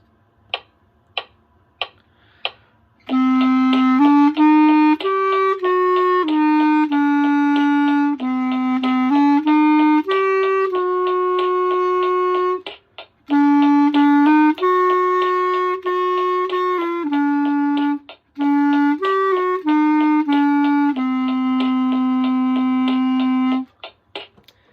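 A clarinet plays a slow, sustained melody of held notes with brief pauses, preceded by a few sharp metronome-like ticks.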